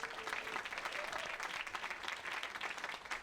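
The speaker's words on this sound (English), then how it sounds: "We'll have a clap." Audience at an arts awards ceremony claps for a nominee, a moderately quiet, rippling round of applause with individual hand claps audible in an uneven, sustained patter.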